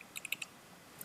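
A computer keyboard being typed on at a Linux terminal, with four or five quick, light key clicks in a short burst and one more click after a brief pause. Faint and close, with no talk.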